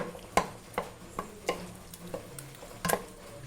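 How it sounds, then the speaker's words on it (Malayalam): Cooked tapioca and taro are mashed with a wooden stick in a pot, giving a series of soft, irregular thuds and squelches up close, roughly two or three per second. "നമുക്ക് ശരിക്കും ഒന്ന് കുത്തി ഉടച്ച് കൊടുക്കാം."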